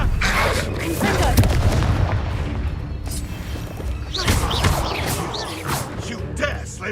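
Spell blasts from a cavern fight in the Hogwarts Legacy video game go off as heavy booms and crashes, one after another, over a constant rumbling game mix with a voice faintly present.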